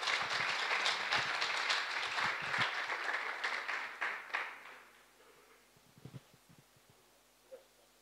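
Audience applause at a network operators' conference session fills the room, dense clapping that thins out and fades to a few scattered claps.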